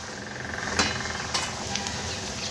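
Spiced okra going into hot oil with garlic and curry leaves, a soft crackling sizzle with a few light clinks of a spoon against the pan, fairly quiet.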